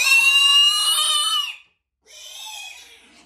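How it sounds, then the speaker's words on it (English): Mini pig piglet screaming while being picked up: two piercing, shrill squeals, the first longer and louder, separated by a brief silence. "piglets really do hate to be picked up. So he does still scream, and it will definitely blow your eardrums."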